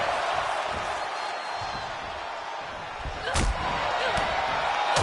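A wrestler's splash off the middle rope in a wrestling video game lands as one sharp, loud slam impact under a continuous roaring arena crowd.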